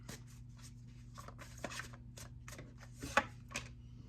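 Tarot cards are shuffled softly and close by in a series of short riffling and slapping strokes over a low steady hum, with one sharper card snap near the end.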